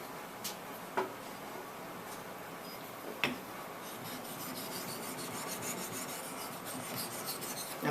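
A side axe is sharpened freehand on an oiled stone, a continuous soft close rasp of steel on stone broken by a couple of sharp taps of the tool.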